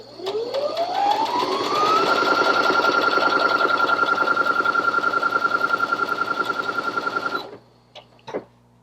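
A Baby Lock Presto II sewing machine spins up from rest with a rising whine, then runs at a steady, fast, rhythmic hum of stitching for several seconds before stopping abruptly, followed by a couple of faint clicks.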